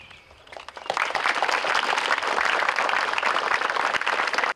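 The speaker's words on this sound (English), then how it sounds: "we can give a round of applause once it is revealed" Applause breaks out as the sheet comes off a sandstone monument at a Mt. Albion cemetery dedication led by seventh graders, a dense, steady crowd clapping that swells after a quiet second and holds strong until cutting off abruptly.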